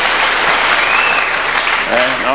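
A crowd at a church fundraiser for the ACK Kitui Cathedral construction claps loudly and steadily, with a voice speaking briefly over the applause.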